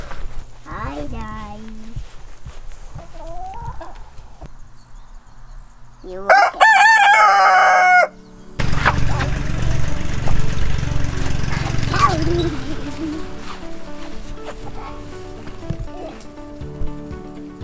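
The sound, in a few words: chickens clucking and rooster crowing on a farm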